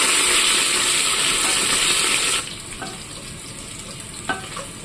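Small onions and garlic cloves sizzle loudly in hot oil in a pan, a steady close fry that drops sharply halfway through, with a couple of faint clinks of stirring afterward.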